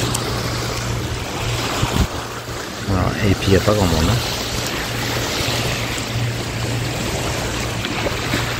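A motor boat runs under engine power at sea on a windless day off Mallorca, a steady low drone beneath water wash, with someone speaking briefly over it partway through.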